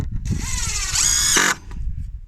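A power drill drives screws into a metal bending jig for bending rebar stirrups, giving a short whining burst that rises in pitch and strains higher before cutting off abruptly, then low handling noise.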